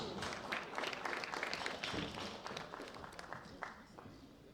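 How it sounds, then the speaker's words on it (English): An arena audience at the 2016 World Bench Press Championships gives sustained, dense applause for a sub-junior men's bronze medalist, with a voice speaking over the clapping. "A rounding ovation for Faustas Kavaliauskas."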